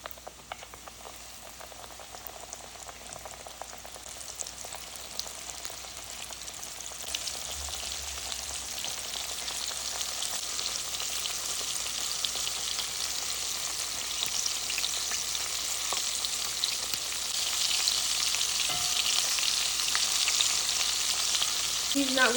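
Chicken tenders fry in hot oil, giving a steady, close sizzle with bubbling crackle that builds louder and denser over the clip, with no talking.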